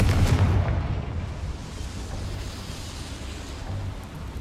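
A Confringo fire-blast spell explodes inside a small mine in the Hogwarts Legacy video game, a loud boom at the start that fades into a steady low rumble, with no talking.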